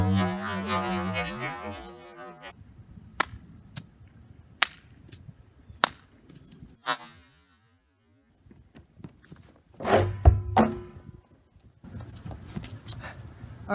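Scrap-built knuckle dusters strike a block of ice resting flat on a barrel, giving sharp, separate cracking impacts spaced a second or so apart, with a louder crunching cluster near the end and quiet gaps between hits.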